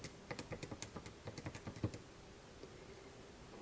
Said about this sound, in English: Type that in my calculator.